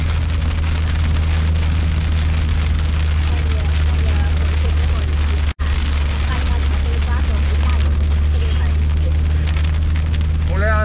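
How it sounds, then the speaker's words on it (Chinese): Heavy rain pounds a car driving along a long forest road in Europe. A dense, steady roar of drops plays over a low engine and road hum, with a brief dropout midway and faint voices at times. "你没有棚子根本就躲不了雨，这么大的雨"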